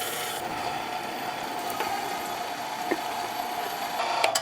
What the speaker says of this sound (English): through the meat grinder we go